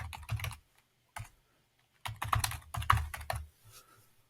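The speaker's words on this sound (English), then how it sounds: "And then simply type the URL down here." Bursts of computer keyboard typing as a web address is entered, with quick clustered keystrokes separated by short pauses, fairly close and moderately quiet, with no talking.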